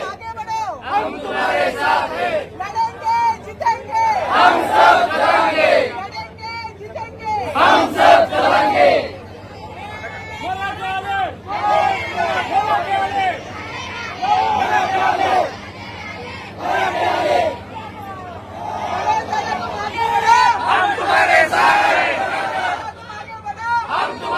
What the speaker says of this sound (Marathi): अंतरवाली सराटी येथे मोठ्या प्रमाणात मराठा बांधवांनी गर्दी केली आहे